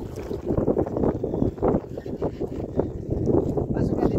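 Steady rushing strong wind and water noise at sea buffet the microphone on a fishing trip, with a boat's motor-like rumble underneath and choppy surges from the waves throughout.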